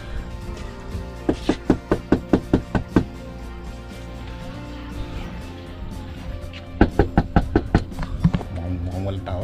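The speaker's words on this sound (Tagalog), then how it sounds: "So katok tayo, try natin kung tao no." Knuckles rap on the door of a roadside house in Canada in summer, in two quick bursts of about six sharp, loud knocks each. A person talks quietly in between.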